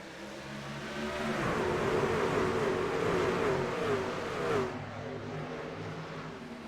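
Race trucks at Charlotte Motor Speedway accelerate together from a green flag start in the Pit Stall Racing Series, a loud rising engine roar that builds over a few seconds, peaks, then recedes, with no voices.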